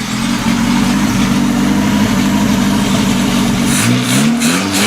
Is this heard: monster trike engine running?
yes